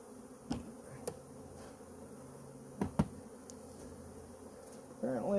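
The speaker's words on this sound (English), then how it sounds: "gotta shake off everything that's got bees." Honey bees during a bee removal, a faint continuous buzzing hum with a few sharp knocks and bumps scattered through it, heard outdoors with no talking.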